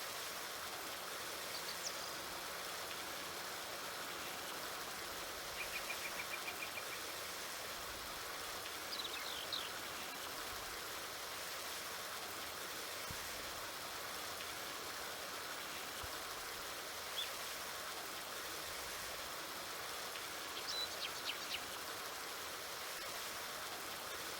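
Steady, even water-spray hiss from a washer cleaning a 9570 RT tractor in Farming Simulator 2019, running continuously and fairly quietly for the whole stretch with no talking.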